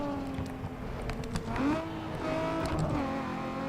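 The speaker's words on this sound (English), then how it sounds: "you can hear JDM cars just racing in the streets of Need for Speed Underground 2 in the background" JDM cars racing through the streets in Need for Speed Underground 2, engines droning and revving with pitch sweeps as cars accelerate, heard at moderate level in the background.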